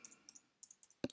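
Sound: typing on a computer keyboard

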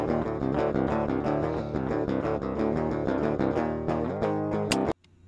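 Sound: raw electric guitar tone before amp simulator

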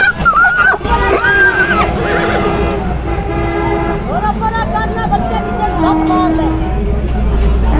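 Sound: horse neighing

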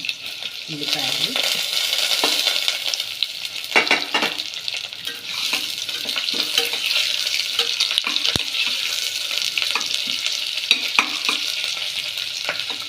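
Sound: onions frying until brown for palak rice

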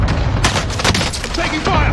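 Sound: gunfire in video game Call of Duty Warzone

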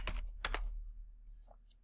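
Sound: typing on a computer keyboard

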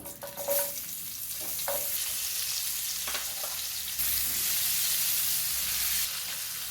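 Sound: onions frying in oil in a pan

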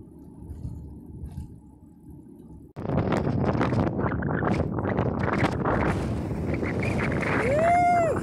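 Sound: strong wind blowing on mountain pass

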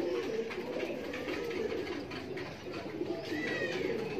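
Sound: pigeon cooing

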